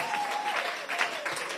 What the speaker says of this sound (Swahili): Piga makofi wanategetea hivyo.